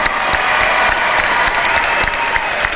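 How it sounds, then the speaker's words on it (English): A large audience at a high school commencement ceremony claps steadily and continuously, a dense sustained round of applause with no voices standing out. "giving all of these local award winners and scholarships a huge round of applause"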